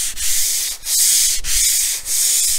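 Sandpaper is rubbed by hand across a painted wooden cabinet top in loud, close, rasping back-and-forth strokes, about four steady passes with brief pauses between them and no talking.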